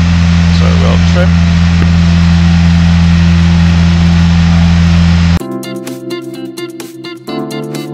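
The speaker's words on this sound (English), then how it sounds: "Flaps are up, engine is at full power, altimeter is increasing, so we'll trim." A Piper PA-28 light aircraft engine at full power drones loudly and steadily at close range, then cuts to a quieter, buzzy mechanical tone for the last few seconds.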